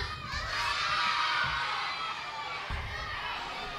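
Children shout and clamour together in a prayer house during a vacation Bible school session, a loud, continuous crowd of young voices rising and falling, with an adult voice cutting through.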